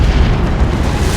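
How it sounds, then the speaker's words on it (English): A Baneblade tank in the Dawn of War 2 video game firing all its cannons at once, producing a loud, continuous roar of overlapping booms and blasts with heavy low rumble and no breaks. "Baneblade firing everything"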